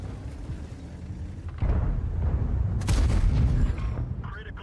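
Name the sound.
tank gun shot scoring critical hit in World of Tanks video game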